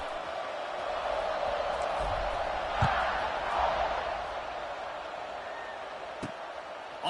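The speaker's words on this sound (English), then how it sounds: "You think this crowd's going to get loud when their defense comes on the field?" A stadium crowd in the College Football 26 video game gives a steady, broad roar at an Auburn game kickoff, swelling slightly in the middle with a few sharp knocks.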